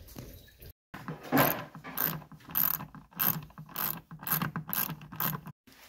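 A ratchet wrench works the radiator bolts on a 2006 Subaru Forester in a series of quick, close, rhythmic clicking bursts with brief pauses between turns.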